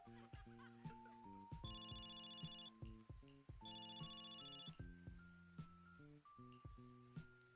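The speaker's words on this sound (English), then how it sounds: "Her phone is ringing." A phone rings with a melodic electronic ringtone, a rising and falling run of bright tones repeating several times, fairly close and mostly alone.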